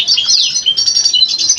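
Red siskins in an aviary at a bird farm chirp close and loud, in rapid high tweets and short trills that run almost without a break.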